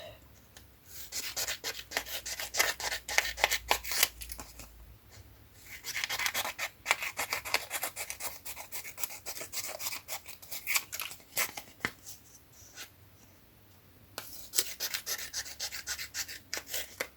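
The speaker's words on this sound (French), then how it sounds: "Donc après, là, je vais découper ça." Scissors snip repeatedly through recycled flower packaging for a handmade skinny card, crisp close rasping cuts in quick bursts separated by brief pauses.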